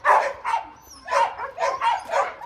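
Two rescued dogs at an adoption shelter bark close and loud in a quick run of about six sharp barks, some yipping and whimpery, with no one speaking.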